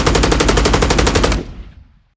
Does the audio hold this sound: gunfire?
yes